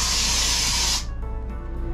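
Raid insecticide aerosol can sprayed in one steady, loud hissing burst lasting about a second, then cut off, leaving quiet room tone with faint tonal hum.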